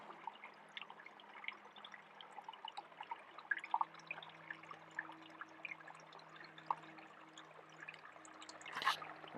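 A small wet-weather waterfall on Taum Sauk Mountain trickles and drips steadily over rock, soft and close, with faint scattered splashes and no talking.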